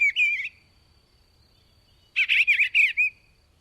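Eastern Bluebird in open woodland or farmland sings a short warbling phrase, pauses in near silence, then gives a second phrase of three quick rising-and-falling notes, clear and fairly close.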